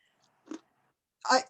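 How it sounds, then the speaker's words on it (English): Crunchy fried shiitake mushrooms being chewed close up, heard as two short crisp bites, the second louder and longer, with silence between. "I'll probably eat them because they're crunchy,"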